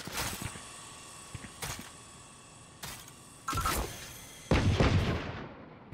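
Grenade detonation in an online shooter game: a few sharp bangs and clicks build to a loud, booming blast near the end, with no talking over it.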